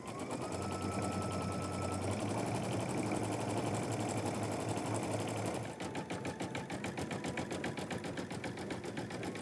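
A sewing machine stitching with mustard-colored thread runs in a fast, steady needle rattle, then shifts partway through to a slower, distinctly pulsed stitching rhythm, close and alone.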